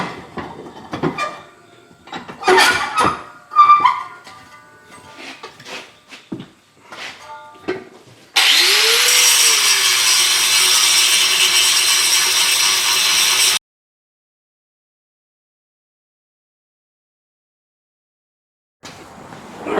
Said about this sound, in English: get it on the bench grinder, clean this up